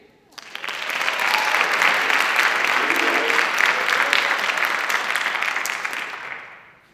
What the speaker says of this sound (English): You didn't clap loud enough.